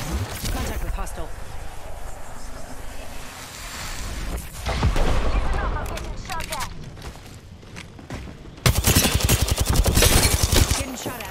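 Video game gunfire cracks in short bursts, then swells into a dense, loud stretch of rapid automatic shots near the end, with a voice talking over the game sound.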